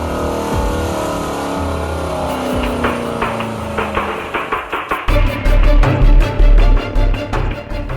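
A Corvette C7 fitted with a Borla dual-mode exhaust with NPP revs hard. A rising engine drone gives way to a loud, deep burst of throttle blips, close and without talk.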